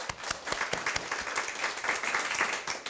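A church congregation gives a round of thankful applause during a Bible lecture, an even spread of many hands clapping at moderate distance, fairly quiet and steady throughout.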